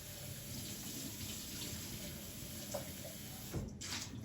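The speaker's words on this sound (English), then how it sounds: "I might just quickly rinse the jug." Water from a tap runs steadily as a milk jug is rinsed in a kitchen with a Breville Barista Pro espresso machine, a broad close splashing wash that ends with a brief louder gush.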